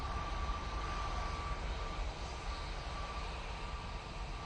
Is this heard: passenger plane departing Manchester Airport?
yes